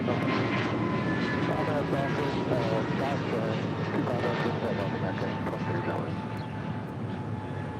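An airliner powers up for takeoff at LAX, a broad, steady roar filling the whole stretch, while an air traffic controller's radio call and a person talking run over it.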